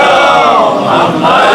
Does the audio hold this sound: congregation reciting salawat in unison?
yes